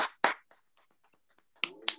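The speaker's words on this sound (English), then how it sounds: "Everybody clap your hands." A group of people clap their hands a few times in a quiet room, two sharp claps at the start and two near the end with faint scattered taps between.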